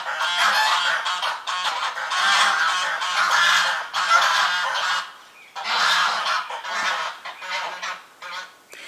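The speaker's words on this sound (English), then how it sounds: "the geese." A flock of geese honking loudly and repeatedly, in overlapping bursts with brief pauses between.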